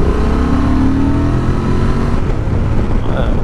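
A 2024 Honda Transalp 750 A2 motorcycle engine pulls hard under acceleration, loud and close, its rising drone and rumble filling the recording for a few seconds.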